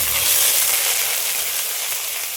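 Green chili, onion, garlic and ginger paste sizzling in hot oil, a loud, steady, hissing fry that holds evenly throughout with no talking.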